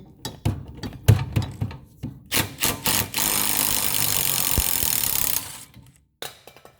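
A socket wrench works a rear brake bolt on a 2012 Volkswagen Jetta GLI: sharp metallic clicks and knocks, then several seconds of loud, continuous rasping, then a few more knocks, with no talking.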